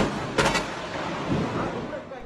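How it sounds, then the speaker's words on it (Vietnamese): Thunder from a strong thunderstorm in Đắk Nông, Vietnam: a sharp loud crack followed by a long, rolling, fading rumble, with faint background noise. "Tiếng sấm nổ lớn cùng những tia sét liên tục đánh xuống."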